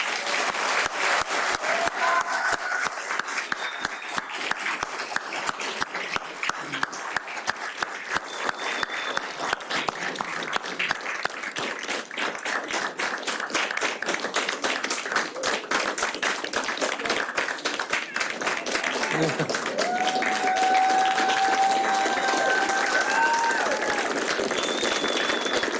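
An audience applauds the graduating paramedic class at a county fire and rescue graduation ceremony, with long, steady clapping at moderate volume and a faint tone sounding briefly near the end.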